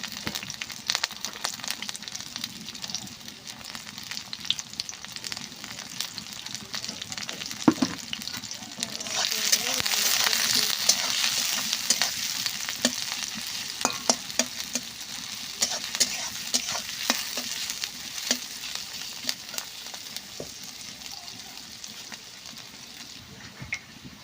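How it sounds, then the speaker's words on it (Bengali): Sliced onion and green chili frying in oil in a pan, a steady loud sizzle with bursts of stirring and crackling that swell midway, no talking. "দেখতেই পাচ্ছ আমার পেঁয়াজটা খুব ভালো করে ভাজা হয়ে গেছে"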